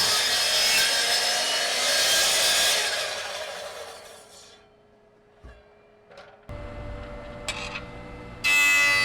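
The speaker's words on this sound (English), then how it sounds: "So, back to the miter saw." A miter saw cuts through wood in a workshop while building a wooden tote caddy, a loud broad whining cut for several seconds that winds down, followed by quieter bench clatter and a sharp burst at the end.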